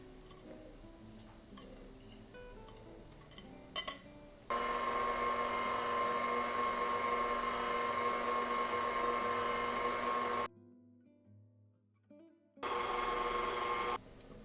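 A stand mixer runs steadily on low, mixing flour into sourdough banana bar batter, with a constant whirring hum that starts abruptly, cuts out briefly and then resumes, heard up close with no talking.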